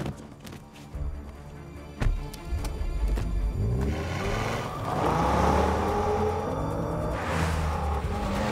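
A car in a 1978 film chase scene races along the Seine quays, its engine revving and growling with rising pitch, preceded by a few sharp knocks and followed by a louder rushing drive.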